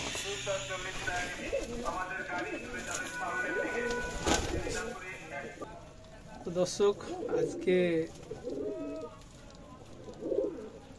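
Rajshahi Giribaz pigeons at a loft farm in Shibganj, Chapainawabganj, coo in soft repeated bursts, some perched on wires nearby, while someone talks over them for much of the clip.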